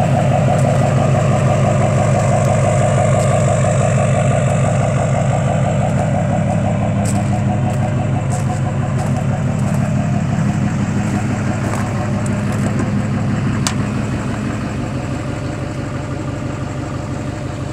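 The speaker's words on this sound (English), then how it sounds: "Take a look at the lifted GMC Sierra that you are inquiring on." A lifted GMC Sierra four-wheel-drive pickup truck with 86,000 miles idles nearby, a steady low engine rumble running unbroken throughout with a few faint clicks and taps over it, no voices.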